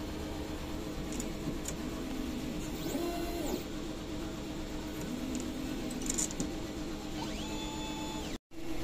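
An inkjet printer runs a nozzle test after a head clean, its carriage motor whirring in rising and falling sweeps over a steady mechanical hum, with faint clicks between passes and no speech.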